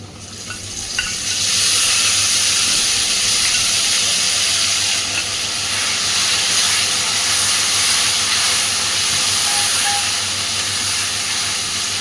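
Ginger, garlic and onion paste hits a hot pan and bursts into a loud, steady sizzle and hiss that holds close and continuous, with light stirring and no talking.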